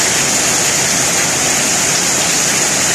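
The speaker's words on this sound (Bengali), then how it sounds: "পানি দেখেন, বৃষ্টির পানি" Rainwater flows in a steady, even rush, a constant broadband wash of running water with no breaks, close and fairly loud throughout.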